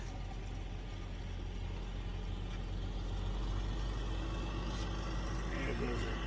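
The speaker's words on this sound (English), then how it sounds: "There goes our truck." A big truck drives away from a parking lot where a Subaru Outback is set up for car camping, its engine a low steady rumble under a noisy wash of traffic, with voices talking.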